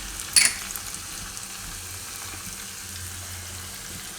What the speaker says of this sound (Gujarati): તો આ રીતનો આપણે વઘાર કરવાનો.